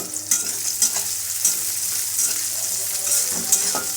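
Chopped onions and four or five green chillies frying in a pan for mutton kosha, a steady close sizzle with scraping stirs and small clinks recurring throughout, no talk.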